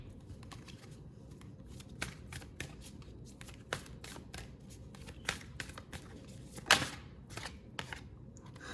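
Oracle cards being shuffled by hand, a soft steady riffling with scattered sharp snaps and taps, close and fairly quiet, with no talking.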